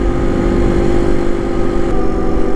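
A Honda CRF250L dual sport motorcycle cruises through town, engine running loud and close with a steady mid-pitched rumble.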